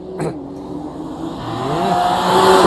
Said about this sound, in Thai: ฟังเสียงเครื่องฮะ